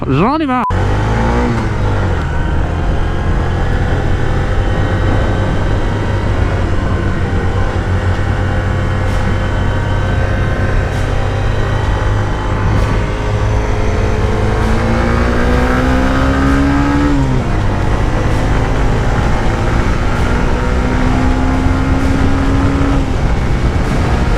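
An A1-licence motorcycle accelerates on the road, its engine whine climbing and dropping through gears across a long stretch. Wind buffets the rider's microphone loudly, and a voice talks over the engine.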